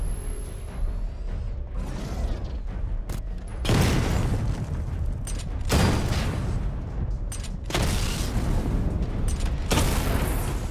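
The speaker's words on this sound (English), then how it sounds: "Charge the missile barrage to level 2 to destroy up to 4 targets at once" In Batman: Arkham Knight, a charged missile barrage fires as several loud booming salvos with mechanical whirs and creaks between them, bursts arriving in heavy waves.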